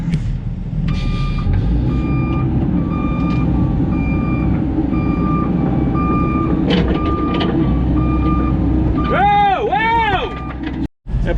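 A stuck truck being pulled out of soft ground at a septic leach field install, heavy engine rumble running steadily throughout, with repeated reversing beeps sounding near and a brief two-tone warble near the end.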